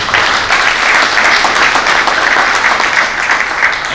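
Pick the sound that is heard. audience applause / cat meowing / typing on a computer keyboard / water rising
audience applause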